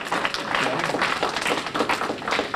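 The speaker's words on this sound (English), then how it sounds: "Let's give her a round of applause." A rural life conference audience claps in a dense, steady round of applause that fills the room for a few seconds at moderate loudness.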